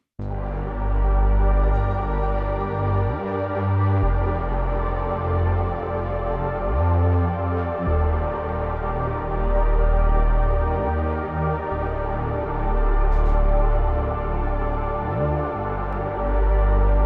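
A steady electronic dance track with a pounding low beat and sustained tonal layers, with brief breaks where the bass drops out every few seconds.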